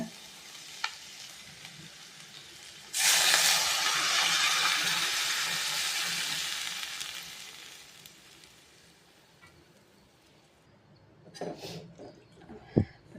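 A sudden loud sizzling hiss erupts as water is poured into a hot pan of salted potato masala, steaming strongly for several seconds before fading, then a few clinks and stirring sounds.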